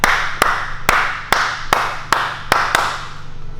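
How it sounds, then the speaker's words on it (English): Eight sharp hand claps at a steady pace, about two per second, switch on a clap-activated light at a spring open house, sounding close and crisp over a low steady hum. "So if you clap, look what happens to the light."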